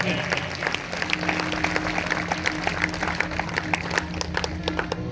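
A church congregation at a Sunday service claps loudly and continuously, with dense fast hand claps over a low hum of crowd noise and voices.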